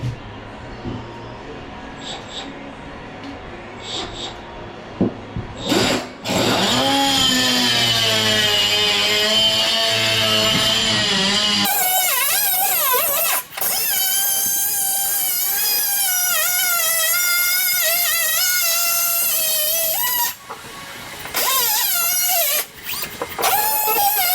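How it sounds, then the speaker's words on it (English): A cutoff tool with a diamond blade cuts tile during water damage repair, a loud sustained shrill whine that rises and wavers as the blade bites, with brief pauses and some talking at the start. "So we're going with the cutoff tool with a diamond blade."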